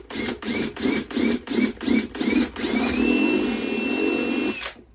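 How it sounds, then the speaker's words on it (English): Power drill fitted with a 3/8 inch bit boring into a cigar box guitar, a row of about seven short pulsing bursts followed by a longer steady whir that winds down, close and loud with no talk. "All right, 3/8 inch drill bit."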